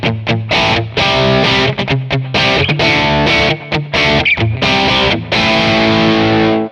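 Overdriven bridge pickup of a Paoletti Nancy Loft guitar, Telecaster-style, biting and fat: dense, continuous distorted chords and riffs with brief dips, loud and close, no voice.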